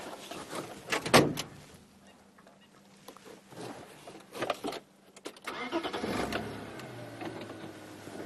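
A safari vehicle's engine runs during an evening game drive in the bush, a low steady rumble under occasional louder knocks and revving bursts, close by with no talk.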